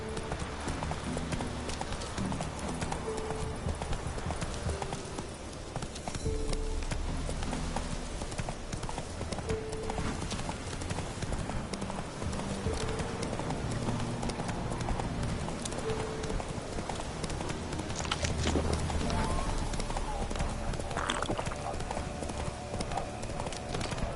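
Roach, Geralt's horse in The Witcher 3: Wild Hunt, gallops with steady, rapid clip-clop hoofbeats that run throughout, mixed with game music and ambience and a brief whinny.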